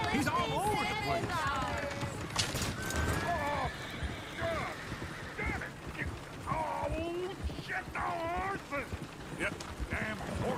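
Horses whinny several times over steady talking in Red Dead Redemption 2, with a rhythmic clatter of hooves in the background.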